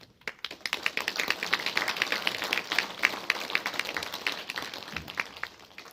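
Crowd at a joint memorial ceremony for democracy activists in Honam claps steadily for several seconds, a dense patter of applause at moderate distance with no voices.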